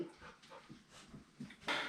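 A dog whimpers softly in a series of short, faint whines and breathy sounds, close by, ending in a brief burst of noise.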